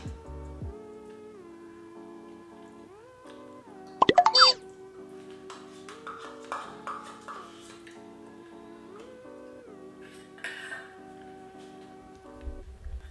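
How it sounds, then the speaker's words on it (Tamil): Greek yogurt drops into a bowl with a single soft, wet plop, short and close, over quiet background music. "ஸோ க்ரீக் யோகர்ட் போட்டாச்சு."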